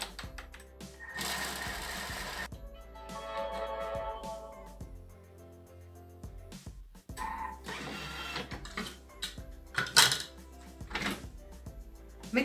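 A Thermomix food processor whirs and chops in short mechanical bursts for seven seconds at speed 7, with clattering and intermittent grinding pulses at moderate loudness.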